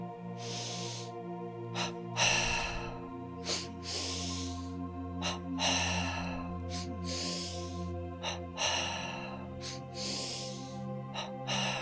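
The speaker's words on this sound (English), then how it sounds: "Preparing now for our 3rd round, double breathing, this time 10 breaths, all in the chest." Pranayama double-breathing practice with ten forceful breaths drawn into the chest. Sharp, rhythmic huffs of breath come in quick pairs, close and clear, over a steady droning background.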